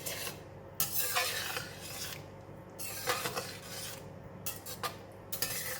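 A spoon scrapes and rasps around a pan while chili is stirred into mapo tofu, in several short, close bursts of scraping separated by quiet pauses, with no voices.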